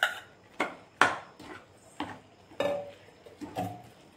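A utensil knocks and scrapes against a pan as boiled potatoes are mashed and mixed for aloo tomato curry, about seven moderate, evenly spaced thuds with soft scraping between, no talk.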